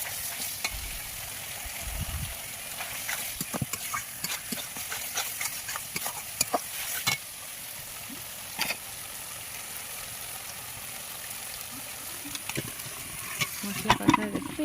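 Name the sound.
meat frying and stirring in spiced masala, goat meat curry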